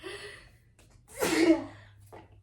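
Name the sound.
sneeze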